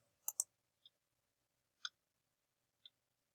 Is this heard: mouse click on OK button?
yes